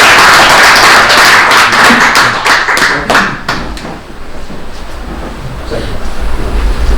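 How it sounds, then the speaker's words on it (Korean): A church congregation breaks into welcoming applause for a missionary, a burst of clapping with sharp individual hand claps that fades after a few seconds into quieter room noise. "우리 뜨거운 박수로 환영합니다."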